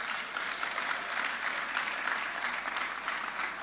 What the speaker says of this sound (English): Now they clap for this church.